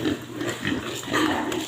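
Low, throaty grunts from young grower pigs repeat in short bursts, fairly close and steady, with snuffling between them and no talking.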